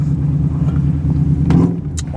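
Nearby motorcycles rumble with a continuous low, heavy engine drone, loud and close, with a brief rise in revs toward the end.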